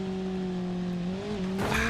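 Simulated car engine in BeamNG Drive, overheating but still running, holds a steady droning tone that swells into a louder, harsher rev near the end.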